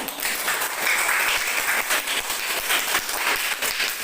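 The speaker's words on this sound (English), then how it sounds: "clap hands for you all" Classroom audience applauding for a class at the close of an interpretative reading lesson, a steady dense patter of many hands clapping throughout, fairly close and loud, with no talk over it.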